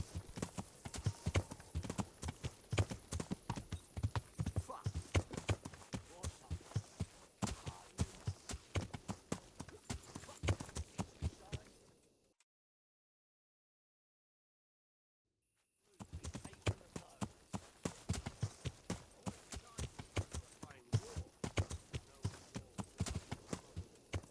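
Steady clip-clop of horse hooves at a brisk trot in the video game Kingdom Come: Deliverance, loud and close, broken by a few seconds of total silence before the hoofbeats resume.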